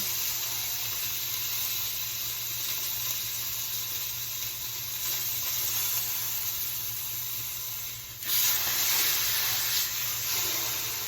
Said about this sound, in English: I'm just doing a quick sear on both ends